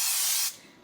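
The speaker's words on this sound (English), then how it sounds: "This actually fits great in a loaf pan, so go ahead and spray it." Cooking spray from a can misted into a loaf pan: one close, loud hissing burst lasting about half a second, then cut off abruptly, with no talking.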